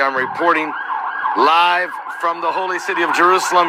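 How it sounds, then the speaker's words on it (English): A wailing emergency siren rises and falls in Jerusalem at night, behind someone speaking steadily in the foreground. "You can hear the sirens in the background."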